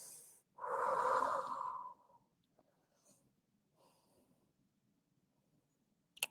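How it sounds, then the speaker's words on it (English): A slow, clear breath out through the nose during a seated stretch, fairly close and alone, followed by quieter soft breathing and a few faint rustles. "Inhale, exhale"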